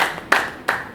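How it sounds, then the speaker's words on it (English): An audience claps for a speaker at a graduation ceremony, with two sharp bursts of clapping that quickly fade, fairly close and with no voices. "We continue clapping for him."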